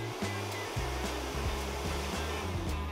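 A workshop vacuum used for workbench dust extraction gives a steady mechanical whine with a low droning hum that runs continuously, with a few brief shifts in pitch, and no voices.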